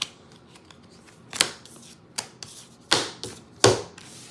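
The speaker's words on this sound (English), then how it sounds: "Let's do just a quick little merging of the cards." Playing cards being shuffled and handled: a handful of short, crisp riffling snaps spaced apart, with quiet gaps between and no talking.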